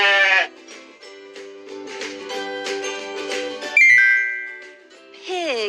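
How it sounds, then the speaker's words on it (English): A cartoon goat bleats in a drawn-out, wavering cry among other animal sounds, with tonal chiming notes partway through, loud and close. "Goat."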